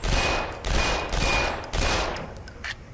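Rapid bursts of virtual gunfire from the VR shooter game Lethal VR crack out in four or five close, loud volleys with brief gaps between them, and no talking over them.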